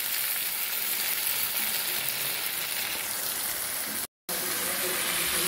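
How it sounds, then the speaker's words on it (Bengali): Sukto vegetables with sugar fry in a pan, giving a steady, close, broadband sizzle with light stirring throughout, broken by a brief dropout to silence near the end. "ভালো করে নেড়ে চেড়ে নেবো।"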